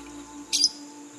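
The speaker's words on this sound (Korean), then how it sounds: "그게 앵무새예요." One short, shrill parrot call rings out once against a quiet background hum.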